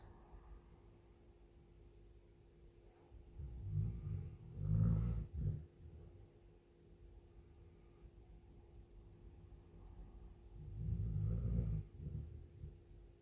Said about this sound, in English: That's the dog snoring in the background.